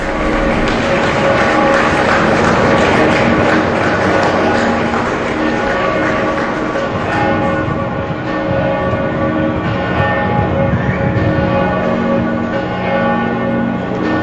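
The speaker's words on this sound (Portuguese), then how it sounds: "Aplausos, o badalar dos sinos e a despedida dos fiéis ao Papa Francisco" Church bells tolling at Pope Francis's funeral in April 2025, loud sustained ringing with rich overlapping tones, blended with a continuous wash of crowd applause throughout.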